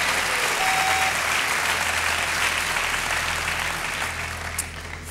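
A studio audience at a German TV game show breaks into loud, dense applause that holds steady and then gradually tapers off toward the end.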